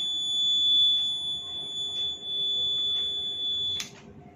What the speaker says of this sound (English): the wire has touched the water and the buzzer is producing sound